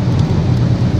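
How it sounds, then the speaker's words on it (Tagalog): Heavy rain pours steadily in Bungabong, a loud, dense, close roar of downpour with a low rumbling undertone and no voices. "Yan, ulan na naman dito sa Bungabong ngayon"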